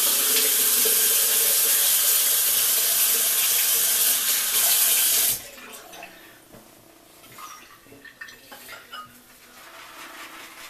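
A bathroom tap runs strongly for about five seconds while a face is rinsed during a wet shave, then shuts off, leaving quieter splashes and dripping water.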